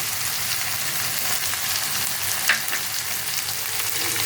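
Green chillies and chopped tomato frying in a pan for a spicy Bengali fish dish, a dense, steady hiss of hot oil heard up close, with one faint clink partway through.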